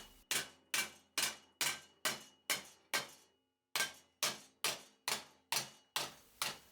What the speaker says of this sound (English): It kind of took a while to get the hang of just where and how to hit the metal in order to make it curve the way I wanted.